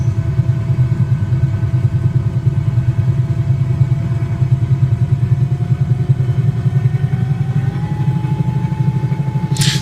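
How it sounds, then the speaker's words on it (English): The twin engines of a Cowansim 222B helicopter spool up out of idle in Microsoft Flight Simulator. A loud, steady rumbling drone fills the whole stretch, and a thin whine climbs slowly in pitch. "Let's bring the engines out of idle."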